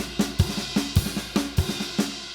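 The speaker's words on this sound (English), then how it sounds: "playing a kick drum with my crash" Crash cymbal struck together with a kick drum, while the left hand rests on the snare, in a rudiment drumming exercise; five or six evenly spaced loud hits with booming lows and a bright wash that rings between strokes.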